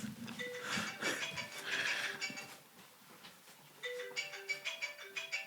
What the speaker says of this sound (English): Let me see who that phone is.